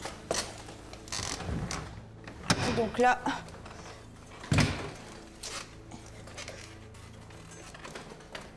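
A household door between the kitchen and garage is opened, giving a few soft clunks and a sharper knock midway, set against room noise while a person talks.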